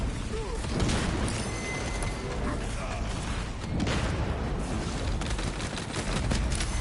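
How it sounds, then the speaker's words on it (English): A crack grenade goes off in the video game Warhammer 40K: Space Marine 2, a loud, dense burst of blasts and crackling debris amid continuous gunfire and battle noise, with a voice speaking over it. "Using crack grenade."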